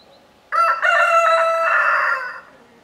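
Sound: rooster crowing

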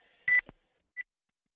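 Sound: beeping on a conference call line from a muted or held phone

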